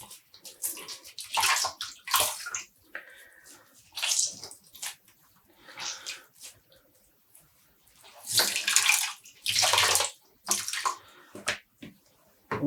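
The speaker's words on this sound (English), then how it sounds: "And squeezing out the water, still not wringing or using any force" Water squeezes and drips from freshly dyed yarn skeins being gently pressed by hand, in several splashy bursts of trickling and sloshing separated by quiet pauses.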